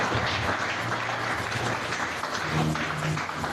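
A church congregation applauding with steady, dense clapping throughout, joined by scattered cheers and voices in the crowd.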